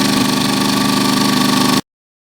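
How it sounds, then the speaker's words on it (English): A Champion 2000 watt inverter generator runs close by with a loud, steady, buzzing engine drone and fine rhythmic pulsing, cutting off abruptly to silence near the end. "One nice thing about the Champion 2000 watt inverter type generator, this model here"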